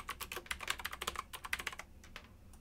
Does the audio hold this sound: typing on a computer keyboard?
yes